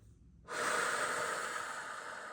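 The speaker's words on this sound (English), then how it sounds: "Lots of deep breaths needed here." A long, deep breath drawn in and let out at close range after a moment of near silence, a steady airy rush that holds on without voice.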